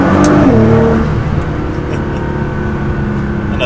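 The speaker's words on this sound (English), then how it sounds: "we'll do a little bit of a second gear acceleration around this turn" A tuned Nissan GT-R in race mode accelerates hard in second gear around a turn, its engine rising in pitch before settling into a loud, steady roar heard from inside the car.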